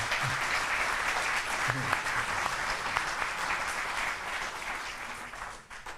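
A conference audience at a morning plenary gives Sir John a round of applause, with steady, even clapping from many hands that fades off at the very end.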